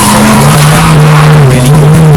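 Race cars in a BMW Turbo Cup drag race at Aldo Scribante circuit roar loud and near with a steady high engine drone, a tyre squeal layered over it for about two seconds.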